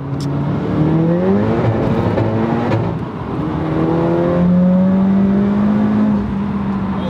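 A 500bhp Golf GTI engine revs hard and accelerates in loud, rising pulls, with a gear change midway and a sustained high drone afterward, heard close and alone without talk.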